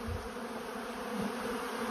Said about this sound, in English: My yard is a cloud of bees.